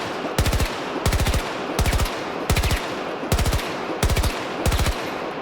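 Automatic gunfire in the video game Battlefield 2042 comes as seven evenly spaced short bursts of rapid, punchy shots, each burst several rounds long and loud, with nothing else heard.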